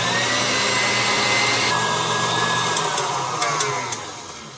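Electric mixer beating cake batter made with baking powder and vanilla for a dulce de leche cake roll, a steady loud motor whine running throughout with slight pitch shifts, easing off near the end.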